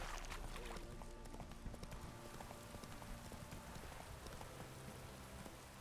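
Steady running hoofbeats from Roach, the horse in The Witcher 3, patter continuously over a soft musical and ambient game backdrop, fairly even in level with no voices.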